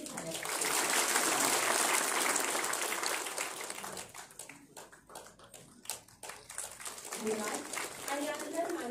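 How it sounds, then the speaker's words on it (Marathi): An audience at a cooperative ministry anniversary event applauds loudly for about four seconds, then the clapping thins into scattered claps as a speaker's voice comes in. "टाळ्या सुद्धा लक्षणीय झाल्या"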